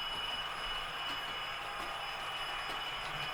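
Model train running on its track, a steady, continuous close rumble and rolling whir with faint high whine and no pauses.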